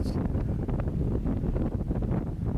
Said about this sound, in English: It's so windy here, I can't hardly hold the camera still